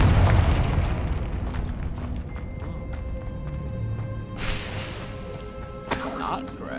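The Confringo fire spell exploding in Hogwarts Legacy, a loud booming blast that rumbles and fades, followed by crackling bursts and shattering debris.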